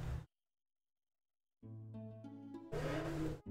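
Motorcycle engine from the Breath of Fire IV video game, a steady tonal drone that starts after a short silence and swells into a louder, rougher revving burst near the end before cutting off.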